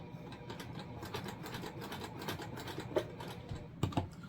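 A sewing machine stitches a seam on a fabric bag, running in a steady, fairly quiet mechanical buzz with a few sharper clicks near the end.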